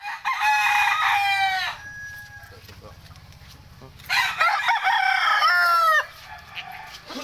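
Chickens recently dewormed with betel nut give loud bursts of crowing and clucking, two clear bouts separated by a quieter stretch of low murmuring.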